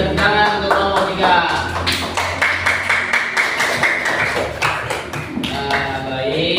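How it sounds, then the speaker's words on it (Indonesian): A classroom of students claps for a group after its presentation, rapid, dense hand claps and taps close by, irregular and sustained, with some shuffling and voices underneath. "Mari tepuk tangan untuk kelompok 3."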